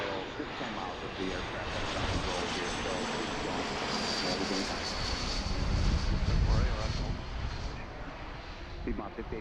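An airliner coming in from Manchester, New Hampshire roars past at Philadelphia airport, a broad steady engine rumble that swells toward the middle and slowly eases, heard from a distance with no voices.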